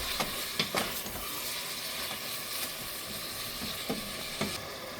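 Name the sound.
stirring meat pie filling with thyme and curry powder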